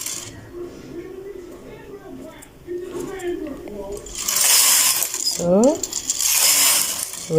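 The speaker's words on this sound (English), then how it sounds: "I'm going to knit 4 rows with my machine in holding position" A knitting machine carriage is pushed across in holding position while knitting rows, making loud ratcheting, clattering passes in the second half after a voice counts aloud.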